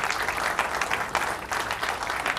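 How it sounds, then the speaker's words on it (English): Audience applause at a pinball seminar, steady dense clapping from a crowd, filling the whole moment without pause. "You guys, I'm going to give you a round of applause."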